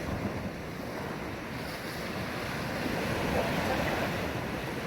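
Sea swell and wind batter an open coast during boat fishing, a steady loud roar of surf and gusting wind noise against the microphone filling the whole stretch without pause.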